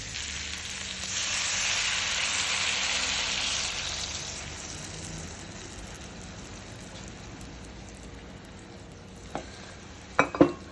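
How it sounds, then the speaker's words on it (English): Stock poured into a hot pan of browned beef for boeuf bourguignon sets off a loud hiss that swells and then slowly fades. A few sharp clinks of a utensil come near the end, with no talking. "So I'm going to add my stock now."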